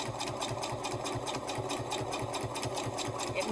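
A sewing machine runs steadily up close, double stitching back and forth across the top edge of a fabric gift bag, with a fast, even mechanical chatter throughout.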